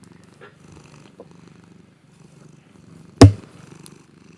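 A cat purrs softly and steadily close by, a low rhythmic rumble, cut near the end by one loud sharp knock or thump.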